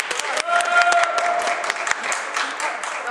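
Steady applause from a crowd, dense clapping that holds throughout, with a few voices and a brief tone briefly mixed in.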